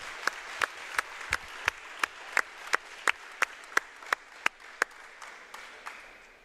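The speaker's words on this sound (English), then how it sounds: "let's have a round of applause" Spectators at a JV volleyball match applaud in a gym, a burst of clapping with sharp, evenly spaced individual claps standing out over the crowd noise and gradually fading.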